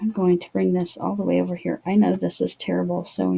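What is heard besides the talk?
No distinct noise like a dog, phone or traffic.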